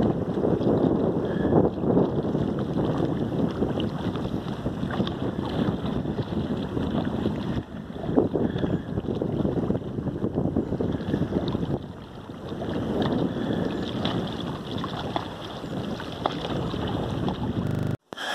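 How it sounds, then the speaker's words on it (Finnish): Wind blows steadily and roughly across the microphone by Lake Saimaa, Finland, a continuous low rushing that swells and eases at times, with no one talking. "Hiukan rupee tuuli puhaltaa"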